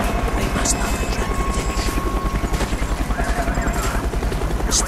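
A helicopter in Call of Duty: Black Ops throbs with a rapid, steady rotor chop, loud and close throughout, with voices talking over it.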